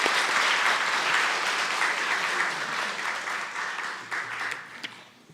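A church congregation applauds during a Sunday service to welcome newcomers, a dense, loud wash of clapping from many hands that gradually thins and fades toward the end.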